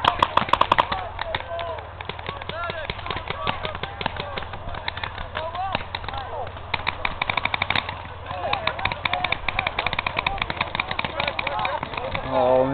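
Rapid automatic gunfire from a shooter video game rattles in dense, continuous bursts, with people talking over the shooting.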